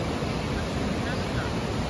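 Water rushing through the opened gates of Duni dam, a dense, unbroken roar at constant loudness with no clear voices over it.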